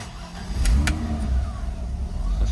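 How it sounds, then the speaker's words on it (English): A 1989 BMW 325i convertible starts with a couple of sharp clicks and a low rumble, then settles into a steady, close, mid-pitched idle. "she starts up, idle's pretty good."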